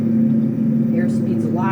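Twin turboprop engines of a Piper PA-42 Cheyenne III at full takeoff power in the Prepar3D flight simulator, a loud steady droning hum with a strong constant tone, while someone talks over it.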